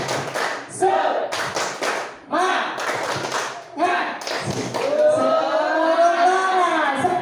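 A group doing the 'tepuk semangat' rhythm clap, several quick bursts of hand claps in a set pattern alternating with a crowd chanting in unison, ending in a drawn-out shout.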